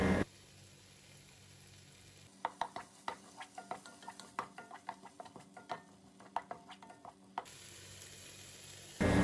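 Ginger garlic paste sautés in ghee with tomatoes and green chilies for a chicken dish: a soft background sizzle under a run of rhythmic spoon clinks and scrapes against the pan, close and distinct, with no talk.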